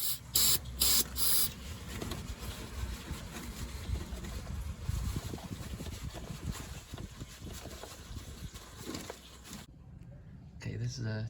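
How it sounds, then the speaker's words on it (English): Hissing bursts of brake cleaner sprayed onto the oil pan and oil filter housing of a 2011 Toyota Camry 2.5L, a few short sprays then a longer stretch of sustained hiss, close by. "Oil pan and oil filter housing with some brake clean."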